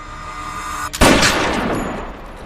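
A single loud gunshot from the crime film Blitz bursts in suddenly after a steady background hum, followed by a long echoing decay that fades over about a second and a half.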